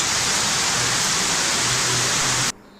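Heavy, steady rain pours down where soldiers stand on duty, a loud dense hiss that fills the clip and then cuts off abruptly near the end.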